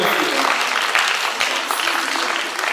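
A concert crowd claps steadily in a dense, full round of applause that holds at a constant level throughout and eases slightly at the end.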